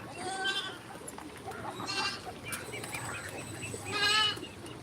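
Goat bleating while eating peanut shells, with several short bleats over a steady outdoor background, the loudest one coming near the end.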